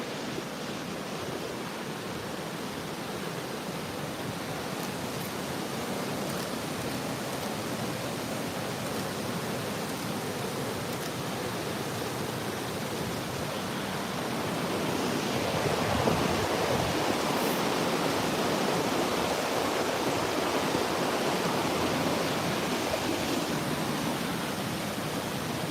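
Water flows steadily in summertime Lapland, Finland, a continuous broadband rush like a stream or rapids, swelling louder partway through, with some wind noise on the microphone.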